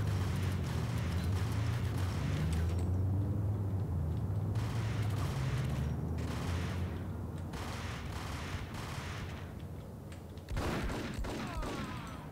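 Gunfire in the video game Max Payne rattles as repeated sharp shots and bursts over a low droning game soundtrack, moderately close, with a louder cluster of shots near the end.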